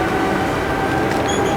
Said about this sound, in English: Okay, we made it to the train station in Monaco